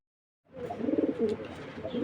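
Black racer racing pigeons coo after a brief silence, with soft, rhythmic, throaty calls up close that continue steadily to the end.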